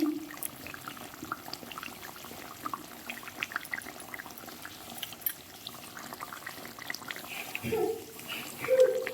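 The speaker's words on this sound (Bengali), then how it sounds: "মাংসগুলো যে ভেজেছিলাম তারই তেলটা এর ওপরে আমি দিয়ে দিচ্ছি" Oil left over from frying chicken is poured over chicken tikka masala in a pan, a faint, soft trickle and gentle sizzle heard quietly throughout with no talking.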